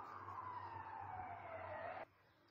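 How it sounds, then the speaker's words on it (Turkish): Several ambulance sirens pass on a road, one wailing with a slowly falling pitch over road rumble, then cutting off abruptly near the end, fairly faint and distant. "Çok gürültülü bir şekilde birkaç tane ambulans geçti yoldan"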